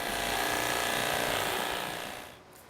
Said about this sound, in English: Say hello to my little pressure washer.